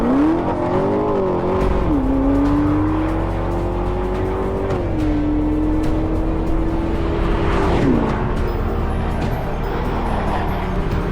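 Base 2027 Chevrolet Corvette Stingray with LS6 engine accelerating hard toward 200 mph, a loud sustained engine drone climbing steadily in pitch with distinct dips at gear shifts, heard from inside with heavy road and wind roar.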